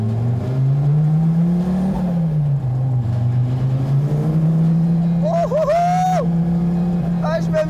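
Donkervoort F22 sports car with a manual gearbox accelerating hard on a road, its engine a loud steady drone rising and falling in pitch close by, with a brief higher revving whine near the end.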